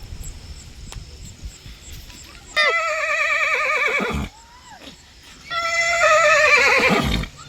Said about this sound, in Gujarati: ત્યાં ઘોડિયું છે, માણેક બોલા બોલ છે.